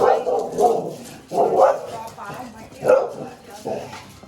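Dogs bark in short, repeated bursts nearby, fairly loud, with people's voices mixed in among the barks.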